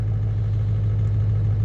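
A 7.3 Powerstroke diesel engine runs steadily after a cold start, a low, even rumble with a strong deep hum and no voices.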